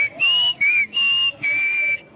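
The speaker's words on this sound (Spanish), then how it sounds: "Con aquel silbido inconfundible y alegría natural" Four bright whistled notes from a person, each held steady with short breaks between, clear and close with nothing else behind them.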